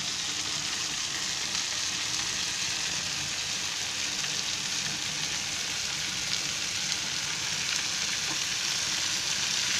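Green capsicum and potato sabzi with peanut powder frying in a pan, a dense, steady sizzle like rain that runs unbroken, with faint stirring beneath and no talk.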